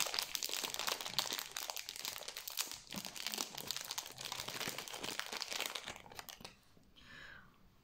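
Unpacking of a Gorjuss collectible figurine, a close, continuous crinkling and tearing of plastic and paper packaging lasting several seconds before it eases off.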